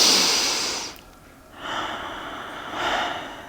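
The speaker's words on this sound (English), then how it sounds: "That was a big one. Nice big breath here." Deep breathing during a floor-based yoga flow: a long, airy exhale fades out, then after a short pause two more soft breaths swell up close and steady, with no talking.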